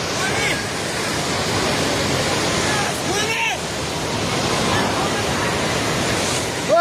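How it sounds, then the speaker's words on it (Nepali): Floodwater from a flash flood in Nepal rushes steadily and loudly at close range, a continuous broadband roar with no break, and voices can be heard talking faintly beneath it. "पानी नजिक आइसकेको छ"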